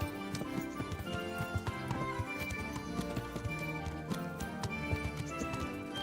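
Horse galloping in Kingdom Come: Deliverance, a steady rapid clip-clop of hooves running continuously under a dense layer of game music and ambience, moderately loud throughout.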